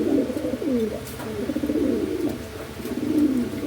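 Yellow Sirazi pigeons coo in soft, rolling, low calls that overlap, close by and continuous, over faint background noise.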